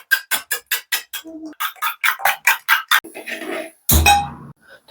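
A spoon clinks rapidly against a bowl while egg and salt are beaten together, a quick even rhythm of bright close taps that pauses briefly and then resumes, followed by a louder scrape and clatter.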